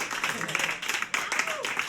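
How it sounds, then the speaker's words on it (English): A live audience at a music show claps steadily in a close, continuous burst, with a brief dip partway through and voices mixed faintly under the applause. "Big round of applause for Brenden and Peter."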